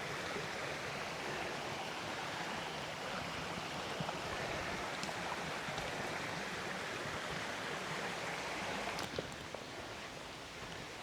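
Steady babbling rush of a river flowing over rocks and stones beside a walking path, a constant close wash of water with a few faint clicks and no talking.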